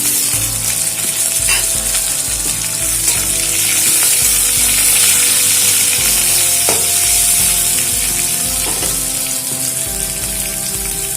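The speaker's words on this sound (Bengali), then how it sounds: "আদাটা দিয়ে একটু ভেজে নেব। এবারে এর মধ্যে দিয়ে দিচ্ছি কেটে রাখা টমেটো।" Ginger and chopped tomato fry in a pan for a vegetarian banana-blossom dish with chickpeas and peanuts, giving a loud, steady sizzle with occasional stirring scrapes throughout.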